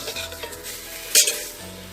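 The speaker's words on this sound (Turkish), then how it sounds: "şimdi bu şekilde biraz daha kavrulacak." Continuous sizzling and frying of meat browning in a pot, with a brief scrape or clatter of a spoon partway through.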